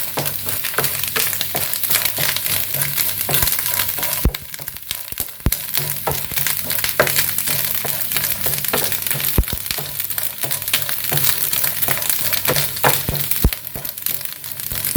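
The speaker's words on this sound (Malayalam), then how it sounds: "നമ്മൾ നെയ്യിലിട്ട് ഇങ്ങനെ വറുത്തുകൊണ്ടിരിക്കുകയല്ലേ, കുറച്ച് സമയമാവും" Coconut pieces fry in ghee over a high flame for unniyappam. A dense, crackling sizzle plays up close, scattered with sharp pops and scraping stirs, and no one speaks.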